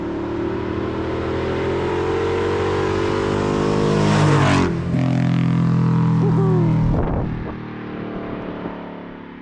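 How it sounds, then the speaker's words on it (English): A 1978 Ford F250 pickup on Superduty axles with a Coyote V8 runs close by, its engine rumbling steadily and rising into a loud rev around the middle before settling back to idle. "The 1978 F250 on Superduty axles with a Coyote V8."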